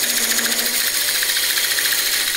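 Wood lathe spinning a large workpiece for a shelf while a freshly sharpened parting tool cuts in, giving a steady, loud whirring hum with a high-pitched hiss throughout.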